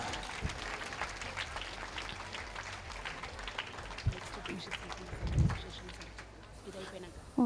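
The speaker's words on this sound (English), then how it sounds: "Give them a big round of applause." Applause from a crowd at a school Children's Day prize-giving, faint and steady clapping with a few louder thumps, heard at a distance.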